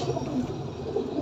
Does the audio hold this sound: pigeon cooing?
yes